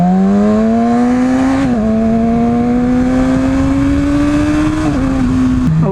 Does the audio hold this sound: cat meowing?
no